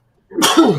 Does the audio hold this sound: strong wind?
no